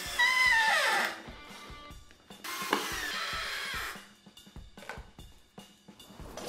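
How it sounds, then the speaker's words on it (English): Wooden boards of a small DIY engine dolly for a VW Bug creak and squeak as they are screwed together, giving short, close squeals followed by scattered knocks and ratcheting clicks. "Squeaky wood."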